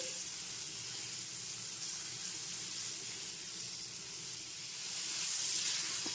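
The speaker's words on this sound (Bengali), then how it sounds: "মাছগুলোকে একটু হালকা করে ভেজে নিচ্ছি" Shrimp fry lightly in a pan with spices, giving a soft, continuous sizzle and hiss that stays faint and steady throughout.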